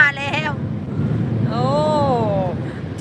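A car wash dryer pipe blows air in a steady, broad rushing roar that fills the space, while a person talks close by over it.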